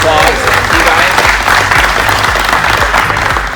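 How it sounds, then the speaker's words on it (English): Loud crowd applause for racers at a Tamiya radio-control car national championship finals at an indoor hobby track, continuous clapping mixed with a voice talking over it and low rumbling background. "So big round of applause to you guys"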